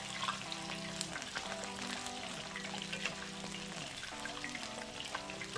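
Battered mushroom and seitan pieces fry in oil with a soft, steady bubbling crackle and scattered pops, fairly quiet and close, a low tonal hum running beneath, with no talk.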